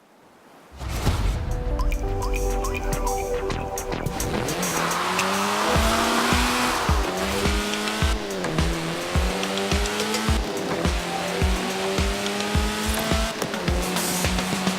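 A Lotus car driven in the racing game Forza Horizon 4, its engine roaring loud and steady with rising and falling revs through gear changes, tires squealing and skidding throughout, with no talk.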